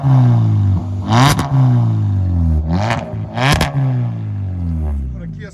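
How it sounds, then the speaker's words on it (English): Kia Soul with a straight exhaust revving hard, loud close engine drone rising and falling through three sharp throttle blips with rasping pops. "What a Kia Soul sounds like when it's straight."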